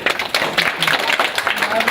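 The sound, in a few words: applause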